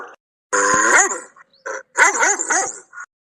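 A dog barks close by in several loud bursts with short gaps, some barks rising into yips and whimpering tones, with no talking over them.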